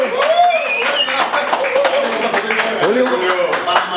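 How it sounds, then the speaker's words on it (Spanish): A small group claps for Julio, a technical staff member, a light scattered round of handclaps near the microphone with voices talking and calling out across it. "Vamos a dar un aplauso a mi amigo Julio"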